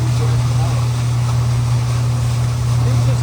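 Steady low drone of a boat motor on the Chobe river during a safari, constant and close, with water wash over it.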